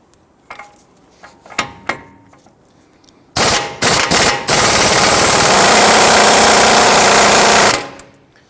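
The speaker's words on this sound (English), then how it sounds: "We're going to use our impact gun and a 22mm socket." A pneumatic impact gun with a 22mm socket loosens the outer tie rod nut on a 2010–2019 Ford Taurus: a few short bursts, then one long steady loud hammering rattle lasting several seconds, preceded by light clanks.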